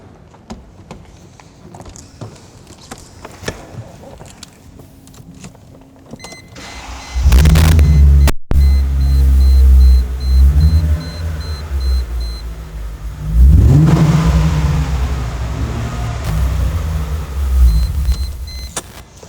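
A 2006 Chrysler Crossfire V6 with a MagnaFlow stainless steel catback exhaust sits quietly before the starter cranks and the engine catches with a loud, deep roar, then settles into a rumbling idle with a second rev flaring partway through.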